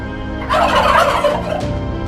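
A turkey gobbles once, a loud, close, warbling burst lasting about a second and a half, with no other sound around it.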